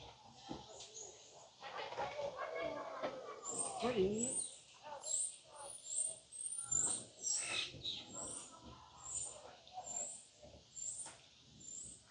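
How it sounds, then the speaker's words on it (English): Birds chirping and calling throughout on a Kilimanjaro Safaris ride at Disney's Animal Kingdom, with repeated high tweets, mixed with faint nearby voices and background bustle. "Oh, we got some birds back here."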